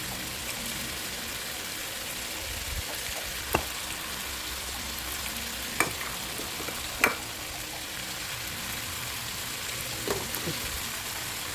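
Adobo simmering in coconut milk in a pan, a soft steady sizzle and bubble with a few distinct spoon scrapes and clinks as it gets stirred, no voices.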